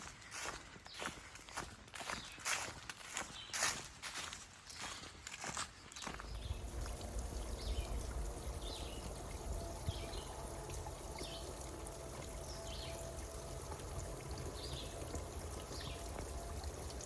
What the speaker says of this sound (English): enjoyable, peaceful walk by the river